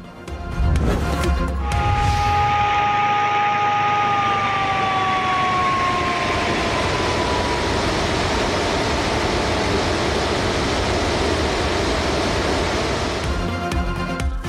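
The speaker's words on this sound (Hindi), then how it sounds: "डैम के गिरदोनवा की आबादी को सायरन बजाकर अलर्ट किया गया" Warning siren sounding near Rawal Dam in Islamabad to alert nearby residents, a loud sustained wail with slowly falling pitch over steady broadband noise like rushing water, continuous for the whole stretch.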